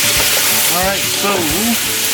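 Pork frying in a pan, a loud, close, continuous hiss and crackle that fills the whole moment, with a voice murmuring faintly underneath.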